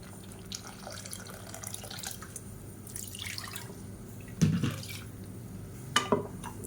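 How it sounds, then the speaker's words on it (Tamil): Water is poured into a simmering curry in a home kitchen, faint trickling and splashing with a couple of sharper splashes near the end, quiet and close, with no voices. "இப்போ இன்னும் கொஞ்சம் தண்ணி சேர்த்துக்கிறேன்."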